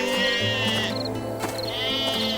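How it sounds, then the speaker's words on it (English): A sheep bleats loudly and close by, a wavering, nasal cry that repeats in quick succession. "shepherds keeping watch over their flocks of sheep"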